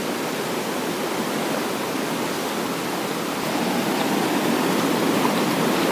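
A waterfall near the Banaue rice terraces in the Philippines, reached by crossing a stream, gives a loud, steady broadband rush of falling water with no break and no voices.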